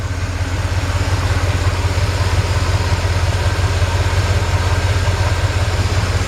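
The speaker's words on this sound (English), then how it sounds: "This engine runs perfect." A 1958 Chevrolet 3100 Apache pickup engine idles steadily, a close, loud, even low rumble with a constant beat that holds alone for the full stretch.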